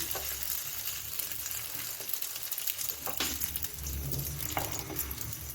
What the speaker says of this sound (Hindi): और इसको अब हम करते हैं जी फ्राई जी